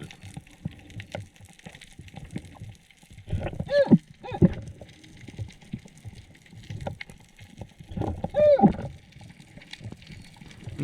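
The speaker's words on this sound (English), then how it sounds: "This sounds you're hearing is me equalizing hand-free." A spearfisher equalizing ears hands-free underwater makes two short bursts of squeaky, creaking clicks, spaced several seconds apart, over a faint muffled rumble and bubbling.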